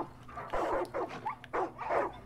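Dogs in the video game Far Cry 5 let out a run of four or five short barks and whimpers in uneven rhythm, moderately loud and close.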